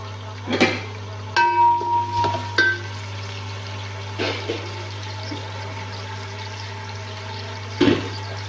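Two large onions go into hot oil and set off a bubbling sizzle with sharp spattering bursts and stirring clatter, close and loud over a steady low hum, with no talking.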